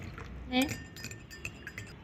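A spoon stirs fungicide powder into a glass of water, giving a few light, close clinks and rattles against the glass, with a faint voice in the background.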